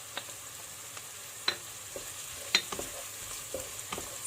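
Tomato paste and onions sizzle in a pot while a utensil stirs them, with scattered light scrapes and taps against the metal.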